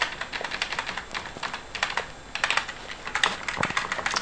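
Rapid typing on a computer keyboard as code is entered, close and steady with dense key clicks and brief pauses, no voices.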